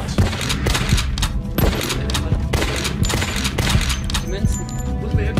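Repeated gunshots from the Remington Super Slam Hunting Africa video game, loud sharp reports firing in an irregular burst over a busy game soundtrack, with someone talking throughout.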